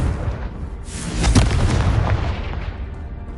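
A Confringo fire spell explodes in Hogwarts Legacy as a deep, rumbling boom that swells to a peak and then decays slowly, loud and close with no talk over it.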